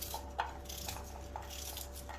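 A knife chops onion roughly on a board in a home kitchen while preparing Sindhi turnip bharta, giving faint, irregular close taps and clicks over a low steady hum.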